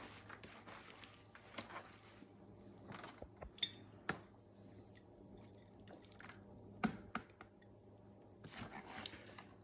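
Kimchi ingredients and minced garlic being mixed together by hand, giving quiet, scattered wet squishes, drips and occasional light clinks of a bowl or utensil, close by with no talking.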